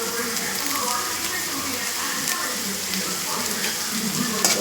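Okra sautéing with salt and curry leaves in a pan for vendaikkai poriyal, a steady close sizzle with faint scraping as it's stirred, running continuously without talk.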